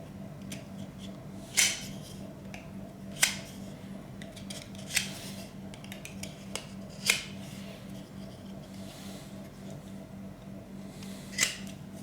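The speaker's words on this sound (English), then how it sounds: "Cut round the excess leather." Scissors snip through excess leather during restoration of an 1865 Forster & Andrews pipe organ, giving a few sharp, separate cuts spaced several seconds apart over a steady low hum.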